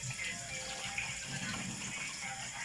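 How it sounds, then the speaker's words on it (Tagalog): Water running from a tap while cassava is washed, a steady nearby splashing flow with faint sloshing of the roots, no voices. "Maghugas ako ng kamuting kahoy."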